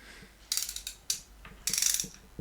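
KATSU 3/8-inch drive ratchet clicking close up, with several quick bursts of fast, crisp pawl clicks separated by short pauses.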